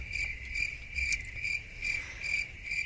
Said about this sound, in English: This is where we insert the crickets right here.